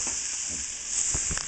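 Garlic and ginger sizzle in a hot pan with a constant bright hiss. A few soft clicks of stirring rise out of the sizzle toward the end.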